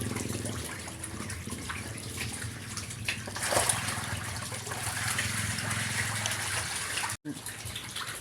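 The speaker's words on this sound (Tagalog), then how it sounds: "Tubig, tanggalin natin lahat ng tubig." Water drains out of a pond holding African catfish in a steady close splashing gush, swelling briefly in the middle and cutting out for a moment near the end.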